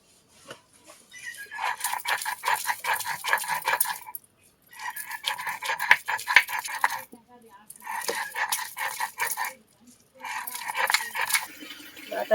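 Leafy greens ground with fried garlic into a paste, in repeated bursts of rough rhythmic grinding and scraping that stop and start with short pauses between strokes.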